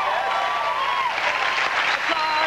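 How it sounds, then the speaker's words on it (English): A TV studio audience on a late-night talk show applauds steadily, a dense wash of clapping, with cheers and a voice speaking over it. "Applause."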